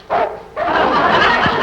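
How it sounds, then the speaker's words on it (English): Neighbouring dogs bark loudly and close, two sharp yapping bursts separated by a short gap, with a faint whimpering tail at the end. "Well, of course they're barking right now."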